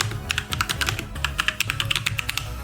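Rapid, uneven clicking of computer keyboard keys as a command is typed into a terminal, close and crisp with brief pauses between bursts.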